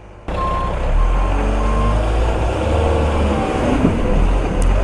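Reversing alarm of a Manitou construction machine on a full-scale outdoor track, a steady repeating beep over continuous engine rumble, fairly loud and close, with no talk.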